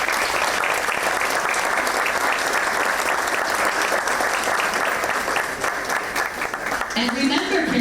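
Sustained, dense applause fills a school board meeting as the audience claps steadily and close-up throughout. A faint voice is heard near the end.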